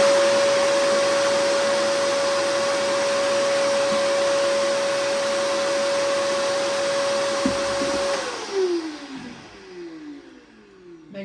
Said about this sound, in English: Just going to hit the vacuum here real quick.